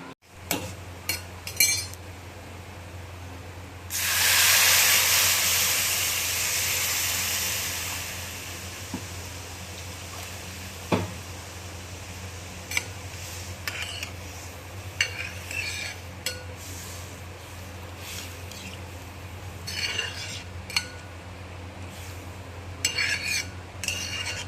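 Vermicelli being roasted in a pan for kheer, with steady scraping and stirring, light clinks of a spoon against metal, and a brief louder rush of sizzling near the start, close and moderately quiet.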